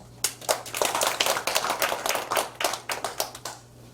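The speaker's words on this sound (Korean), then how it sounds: "박수 한번 해주세요" Audience clapping during a church sermon at a thanksgiving worship service, a fairly small group giving close, rhythmic claps that run steadily for about four seconds with no talk over it.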